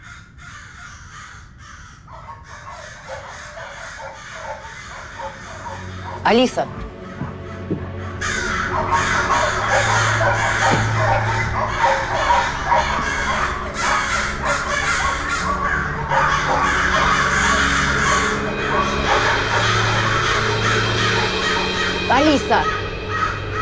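Crows caw loudly and repeatedly over a steady outdoor background, the harsh calls coming in irregular bursts while a voice shouts out twice.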